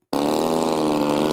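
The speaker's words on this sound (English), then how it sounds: "Engine's running just a touch rich" The engine of a Legend Hobby Old Crow RC plane running slightly rich, a steady buzzing drone that starts abruptly and holds an even, loud pitch.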